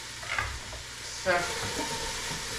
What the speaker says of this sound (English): I'm still browning this. The carrot gives it a little bit of color too.